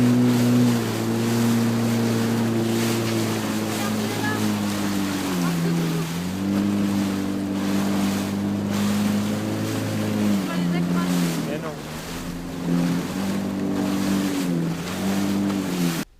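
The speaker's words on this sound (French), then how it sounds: "nous avons fait du jet ski avec des dauphins" A jet ski engine drones loudly and steadily across the sea while riding alongside dolphins, its pitch dipping and rising as the throttle changes, with wind and water wash over the whole ride.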